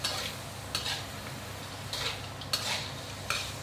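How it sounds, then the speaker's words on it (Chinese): Braised pig skin and pig ears being stir-fried in a wok, with a steady low sizzle and several short metallic scrapes and clanks of a spatula stirring, close and fairly quiet, no talking. "我现在倒去炒了看，炒了再大火"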